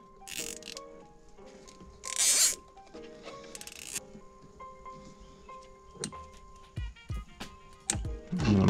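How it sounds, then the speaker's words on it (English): Quick ratcheting zips of plastic zip ties being pulled tight during an Infiniti G37 sunroof leak repair, several short bursts with small clicks and handling noises between them, close by and without talk. "So we're going old school with the zip ties."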